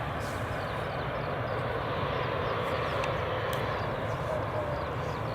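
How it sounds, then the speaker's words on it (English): A Qatar Airways Airbus A350 pushes back at Edinburgh Airport, a steady broadband jet roar and hiss that holds constant throughout at a distance, fairly loud, with faint voices nearby. "we've got a Qatar Airways A350 that's just pushing back"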